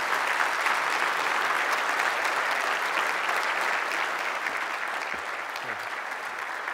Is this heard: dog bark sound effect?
no